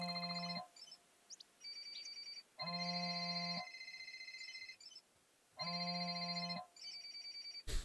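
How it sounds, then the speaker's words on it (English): Phones ringing in a video game during an office mission: electronic ringtone bursts in three loud, evenly spaced rings, with fainter overlapping tones between them and no talking. "Can you hear the phones ringing?"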